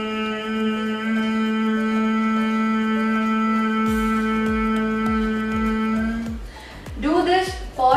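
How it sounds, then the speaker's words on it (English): A single person hums steadily through Bhramari pranayama breathing, holding one long, even, close, nasal tone for about six seconds before it ends and a voice briefly begins to talk. "Inhale, and then you have to create a humming sound like this."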